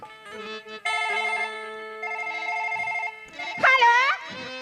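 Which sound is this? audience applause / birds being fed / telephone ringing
telephone ringing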